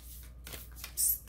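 Oracle deck cards being shuffled and one pulled: soft riffling paper flicks close by, ending in a brief brighter card snap, quiet overall.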